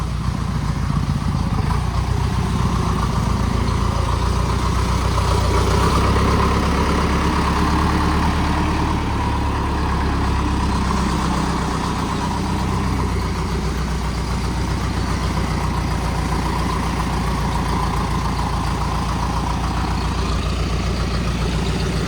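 A JCB backhoe loader's heavy diesel engine idles and rumbles steadily at close range, its low throb continuous throughout with slight variations in revs.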